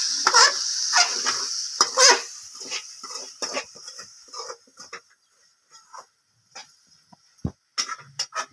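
Sag greens fried with eggs in a pan and stirred with a utensil, giving a string of scraping, clattering strokes over a soft sizzle, busier at first and then sparser, with no talking.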